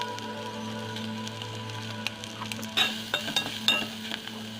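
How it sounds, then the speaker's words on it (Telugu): Sliced onions with green chillies frying in a pan with turmeric and salt, a steady close sizzle with a few louder crackles and stirring scrapes toward the end, no talking. "ఆనియన్స్ కొంచెం వేగాలి."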